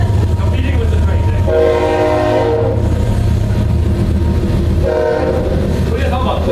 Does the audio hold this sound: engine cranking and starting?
no